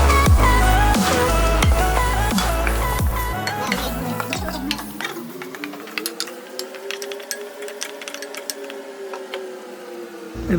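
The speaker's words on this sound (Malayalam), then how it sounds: "നന്നായിട്ട് ഇളക്കിക്കൊണ്ടിരിക്കും." Shallots and onions frying in a pan for salmon curry are stirred with a spoon, scraping and clicking in quick irregular strokes over a soft sizzle; the pan work gets clearer and more open in the second half.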